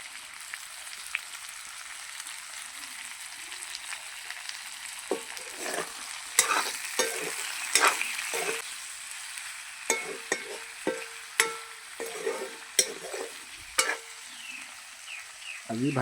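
Broiler chicken meat cooks in a pan with a constant soft sizzle. Sharp scraping and stirring clatters grow frequent in the second half.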